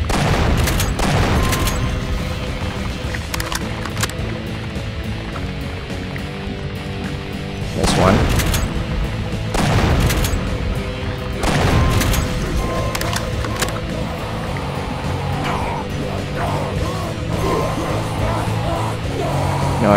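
Gunfire and explosions in Doom 2 with the Project Brutality mod, with dense rapid shots and heavy booms under a continuous game soundtrack, loud and close, while a person talks over it.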